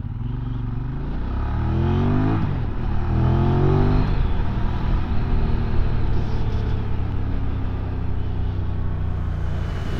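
A QJ Motor SRK motorcycle engine pulls hard while riding and cornering, climbing through rising revs twice in quick succession, then settling into a steady, close drone with wind rush.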